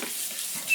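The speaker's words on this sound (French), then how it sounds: "Donc ça, je vais le rincer." Water runs steadily from a kitchen tap while a container is rinsed under it, a short, close hiss of flowing water with no voices.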